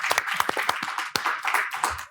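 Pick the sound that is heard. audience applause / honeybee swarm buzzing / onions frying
audience applause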